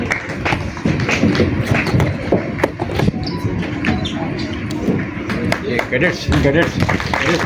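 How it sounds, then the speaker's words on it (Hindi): Crowd applause at a Kargil Diwas tribute honouring martyrs and their families: dense, steady clapping from many hands runs the whole stretch, with a voice speaking over it. "जोरदार तालियां दोस्तों"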